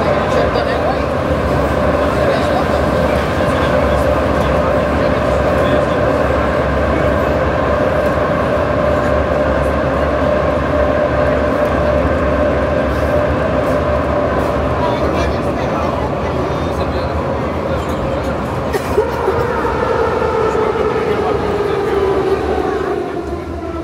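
A historic metro train runs on Prague's line A, giving a loud, steady underground rumble with rising and falling motor whine and clattering wheels, and a jolt near the end.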